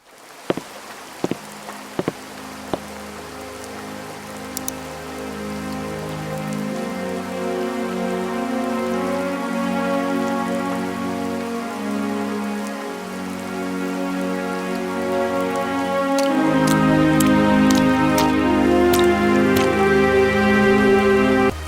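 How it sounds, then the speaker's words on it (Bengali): Cartoon rain falls during a stormy night as a steady patter on surfaces, joined by sharp drip and plink accents and swelling gradually louder, backed by a soft sustained musical score with no talk. "বাইরে ঝড় বৃষ্টি একটু কমেছে"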